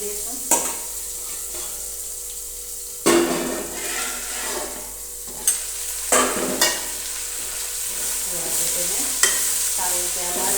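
Mustard and cumin seeds fry for a radish curry, giving a steady close sizzle, with several sharp clanks of a utensil against the pan.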